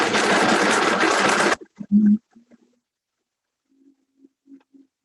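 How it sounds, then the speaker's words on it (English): A Vitamix blender roars loudly for about a second and a half while blending vegan waffle batter, then cuts off abruptly, leaving a few faint low thumps and rattles. "we're making a batter. And I may need that plunger, sis. Okay. So we're going to use our Vitamix."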